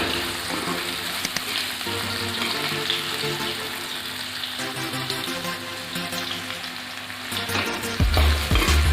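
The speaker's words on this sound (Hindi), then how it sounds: "अब हम आम को चलाकर देखेंगे।" Sweet mango chutney being stirred as it cooks in a pan, a steady close sizzle and wet bubbling hiss with scraping strokes running throughout, growing louder with a heavier clatter at the end.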